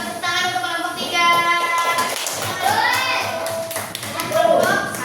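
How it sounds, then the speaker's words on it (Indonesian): Primary-school third graders in a classroom clap for a group of classmates, a steady patter of small hands mixed with children's chatter and a teacher's voice speaking over it. "Kasih tepuk tangan untuk kelompok 3."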